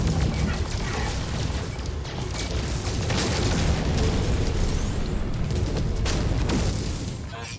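Explosions rumble almost without pause during a space battle between pirate ships and a capital freighter in a video game, with dense booms and bursts layered over a constant low roar.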